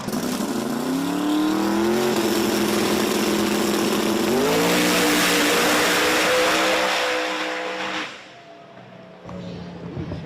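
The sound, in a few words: drag racing car making a pass down the strip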